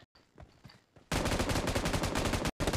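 Machine gun fire in PUBG Mobile, a loud continuous burst of rapid shots after a quieter opening of soft clicks and movement, cut by a brief gap before firing resumes.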